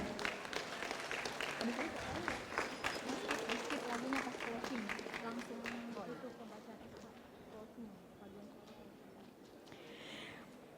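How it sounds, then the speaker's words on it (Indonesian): Audience at a university graduation ceremony in Indonesia claps steadily throughout, a dense crowd applause that gradually thins and softens toward the end. "Bisa diberikan tepuk tangan yang meriah."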